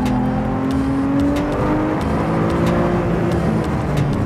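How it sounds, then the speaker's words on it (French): A Porsche 911 Turbo S accelerates hard, its engine note climbing steadily in pitch over a few seconds with a loud, close, continuous roar and no talking. "à peine on accélère et immédiatement la voiture part"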